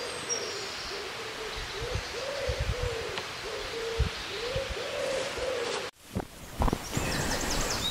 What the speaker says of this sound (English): Pigeons are so noisy, just one of the noisiest birds ever.